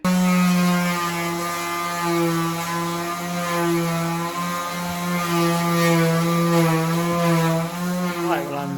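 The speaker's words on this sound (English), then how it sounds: "That buzzing noise you might be able to hear in the background is Clare, 2 floors up" A steady electric buzzing drones in the background, a sustained tonal hum of a sander running two floors up, heard from a cellar.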